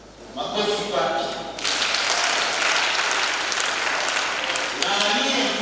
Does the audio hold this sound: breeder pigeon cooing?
no